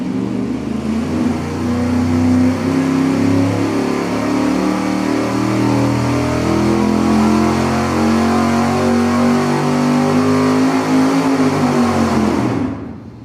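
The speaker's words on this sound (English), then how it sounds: "we're going to do a regular straightforward dyno pull, as we always do, at an acceleration of 300 RPM per second" A 383 engine revs steadily upward under full load on a dynamometer, its pitch climbing smoothly for about twelve seconds before cutting off abruptly; loud, close and sustained with no talking.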